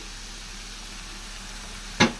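Cut vegetables with egg and meat fry for chowmein in a pan. A soft, steady sizzle runs throughout, and a sharp clack of a utensil against the pan comes near the end.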